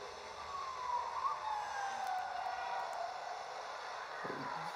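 A siren wails faintly in the distance in the video game Team Sonic Racing, its pitch sliding slowly downward over a quiet background, with a small thump near the end.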